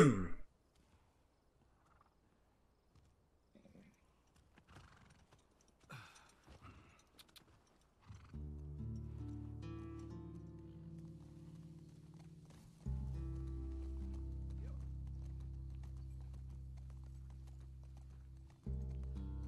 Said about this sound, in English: It's nice to be on a horse again.